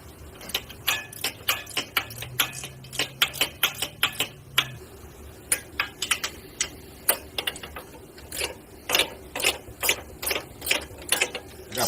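A hand ratchet loosens 12 mm bolts on a bracket of a Honda Rancher Foreman Rubicon ATV during a gear reduction install, giving close, loud bursts of rapid metallic clicking strokes with short pauses between them.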